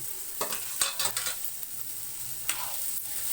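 Onions fry in a pan with salt and turmeric for egg bhurji, a soft sizzle broken by several sharp spatula taps and scrapes against the pan, with no talk.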